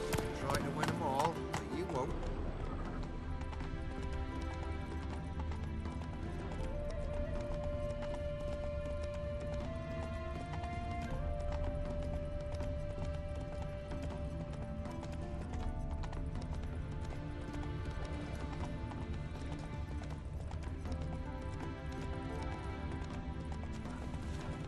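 A horse galloping in The Witcher 3 video game: steady, fast hoofbeats carried under a continuous game music score, with voices speaking over it at times.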